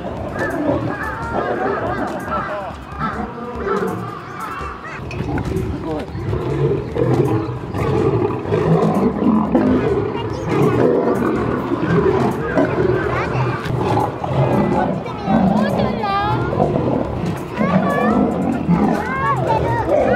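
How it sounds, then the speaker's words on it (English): Three male lions in a zoo enclosure fight, with loud snarls and deep roars that churn on continuously, mixed with the chatter of a watching crowd. "a lion fight breaks out, happens at a zoo"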